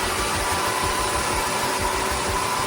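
A Rowenta X-Clean 4 cordless wet vacuum cleaner running with its brush turning, a loud, steady motor whir with a low rumbling vibration and no breaks.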